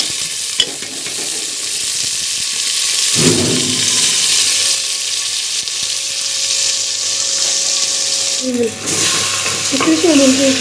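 Onions fry in hot ghee for chicken korma, giving a loud, steady close-up sizzle with occasional stirring scrapes and a few clinks of the spoon against the pan.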